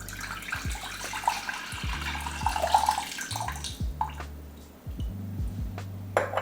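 Vinegar brine pours steadily into a jar with a splashing, gurgling flow, then stops, followed by a few faint drips and soft knocks nearby.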